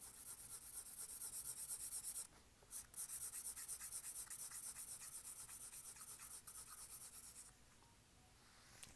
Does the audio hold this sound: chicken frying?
no